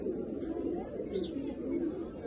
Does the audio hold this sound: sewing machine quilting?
no